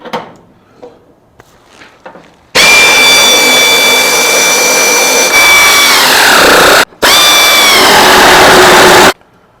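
A loud, close power tool whines steadily while removing a bolt during floor pan prep work, dipping in pitch as it loads, stopping briefly, then running again before cutting off.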